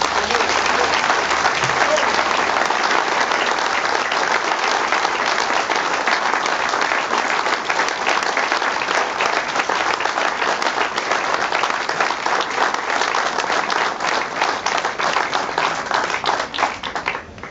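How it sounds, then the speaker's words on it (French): An audience breaks into sustained applause, dense and steady clapping from many hands filling the room for the whole stretch, with no voices standing out. "Je crois qu'on peut l'applaudir."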